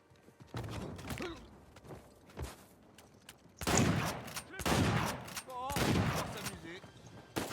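Gunfire in the video game Uncharted 4, with bursts of rapid shots and impacts in a busy firefight, heavier toward the end, mixed with game effects and someone talking over it.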